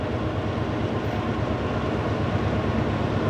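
An eastbound freight train hauling hard, with foreign and Union Pacific locomotives in the consist, rolls past trackside as a loud, continuous low rumble and roar that stays close and steady throughout.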